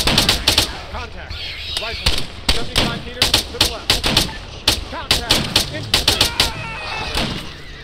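Rifle gunfire in a military video game, loud sharp shots in rapid volleys repeating throughout, with players talking over the firing.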